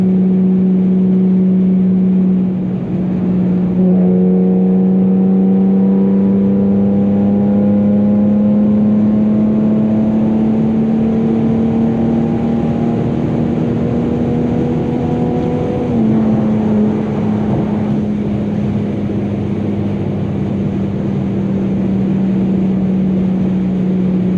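An Infiniti G37 with a loud exhaust pulls hard at night in manual mode: a steady engine drone climbs in pitch, dips at a gear change, then keeps building, loud and close, with no talk.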